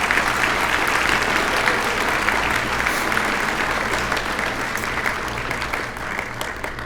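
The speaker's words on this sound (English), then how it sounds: "Please give them a round of applause." An audience at a Chamber of Commerce awards banquet in Fairfield, Iowa applauds, a full, sustained round of clapping that tapers slightly toward the end.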